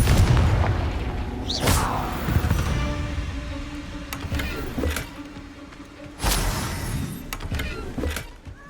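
Confringo fire-spell explosions in Hogwarts Legacy, several booming blasts spaced a few seconds apart with sharp cracks and rumbling tails amid faint game ambience.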